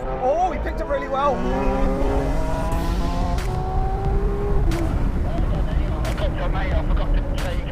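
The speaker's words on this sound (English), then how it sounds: "We're going to do a rolling race in second gear from 40 miles an hour." A Lamborghini Aventador S Roadster and a McLaren 720S Spyder in a rolling drag race roar up through the revs, with several rising engine notes and a gear change, close and loud under wind.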